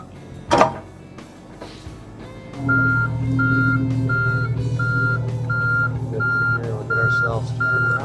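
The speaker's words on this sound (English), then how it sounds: "that beeper's a little much" A John Deere mini-excavator starts up with a low engine hum, then its reversing alarm sounds a steady series of loud, evenly spaced beeps over the running engine, with a sharp clunk near the start.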